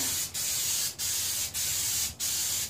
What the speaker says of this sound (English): see if I can make it spray decent with the half clogged up nozzle